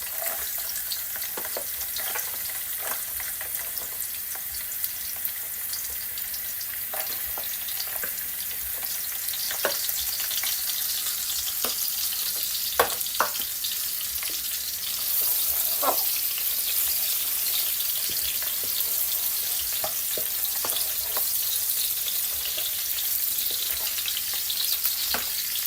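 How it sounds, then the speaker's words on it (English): Carrots sizzle and fry in a hot stir-fry pan for a plant-based dish, a steady crackling hiss with occasional sharper pops and stirring clinks, close and continuous with no talk. "I'm going to be adding in my carrots first because I want to fry them a little bit"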